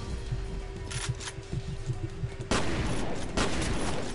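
Shotgun blasts in the shooter F.E.A.R.: a pair of sharp, loud reports near the end, following a stretch of rapid clicking gunfire and combat noise, with no speech.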